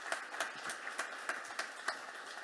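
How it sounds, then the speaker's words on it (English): An audience applauds speakers at a sustainability conference session, a scattered burst of hand claps at moderate distance, somewhat sparse and irregular. "Can I have an applause for our speakers?"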